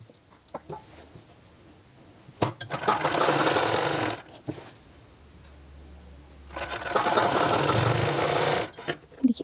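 An electric sewing machine stitches a women's shirt seam with a half-inch margin in two steady whirring bursts of about two seconds each, separated by quiet pauses with light handling noises.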